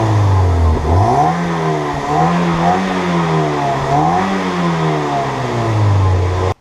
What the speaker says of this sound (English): All right, rev it up.